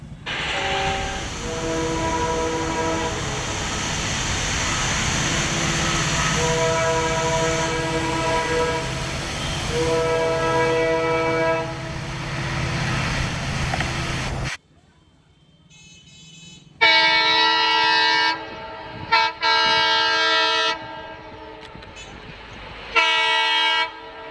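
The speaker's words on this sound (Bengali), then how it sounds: "আমাদের ট্রেন ধীরে ধীরে তার গতি বাড়াচ্ছে ধীরে ধীরে প্ল্যাটফর্মও ছাড়ছে আর গতিও বাড়াচ্ছে" A Brahmaputra Mail express train rumbles close by as it accelerates out of Jamalpur station, its horn sounding in long harmonic blasts; after a short quiet gap, several more loud horn bursts follow.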